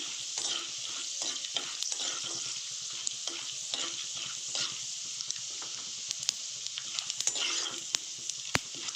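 Chana dal frying in a pan with cumin seeds, a steady close sizzle with frequent scraping stirs and a few sharp pops, no talking.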